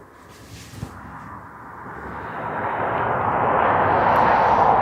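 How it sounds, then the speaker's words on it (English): A helicopter flying near Aberdeen Airport, its rotor and engine roar swelling gradually from moderate to loud as it approaches, with no talking. "Chopper."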